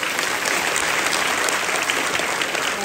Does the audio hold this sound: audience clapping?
yes